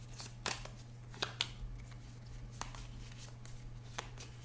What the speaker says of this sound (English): we will shuffle it back in here.